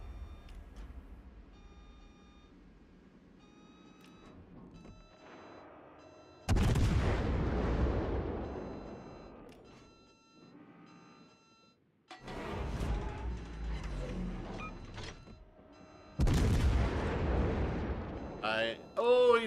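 Naval guns firing at a target in a video game, heavy booming salvos bursting out in a few loud blasts with long rumbling decay, separated by quieter stretches of low engine hum and faint beeps.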